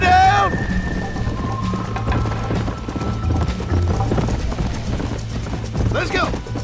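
Rhythmic hoofbeats clop steadily as a horse gallops in the video game Red Dead Redemption, with a whinny near the start and voices speaking over the running.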